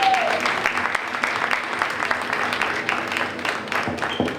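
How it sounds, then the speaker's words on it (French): A press conference audience gives sustained, loud applause, a dense wash of overlapping claps with sharper individual hits throughout and a voice briefly audible at the start. "nous applaudissons"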